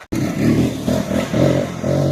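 A Voge 125R motorcycle engine revs in close, loud bursts, with several rising pulses separated by brief dips in a quick, uneven rhythm.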